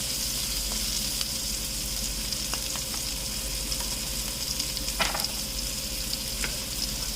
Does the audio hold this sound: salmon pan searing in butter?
yes